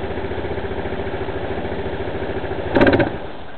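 A 260cc scooter engine idles with a steady, even low putter, then gives one short, louder rev burst near the end before dropping back to idle; the engine has a fault that keeps it from revving.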